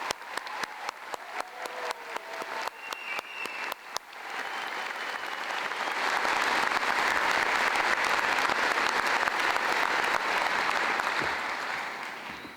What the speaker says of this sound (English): Can we join with another round of applause?